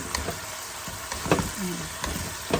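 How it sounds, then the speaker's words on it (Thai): Pork and holy basil being stir-fried in a hot pan, with a steady sizzle and irregular scraping, clanking strokes of a utensil, close and moderately loud. "เวลาผัดเขาใช้สองมืออย่างนี้มันก็จะโอเคนิดนึง ดูนะ"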